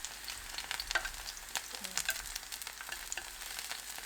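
Green onion (daepa) stalks sizzle and crackle steadily as they grill in a pan, a close, even frying hiss with small pops and no talk.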